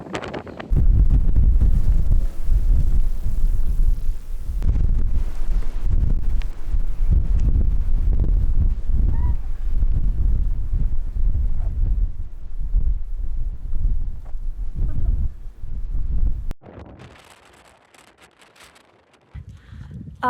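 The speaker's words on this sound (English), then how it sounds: "Feels like I'm not equipped to be walking there with such gusts." Strong wind gusts on a Mount Trebević mountain hike buffet the microphone with loud, rumbling low roar for most of the stretch, easing to near quiet toward the end before picking up again.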